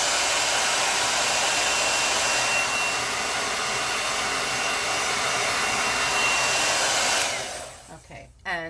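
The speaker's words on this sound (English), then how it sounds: "I'm gonna blow dry that a little because I want to turn it over just in case it's not dry" A hair dryer blows loud and steady on drying chalk paste over a crafted book stack, holding a constant roar for several seconds before switching off and fading into quiet.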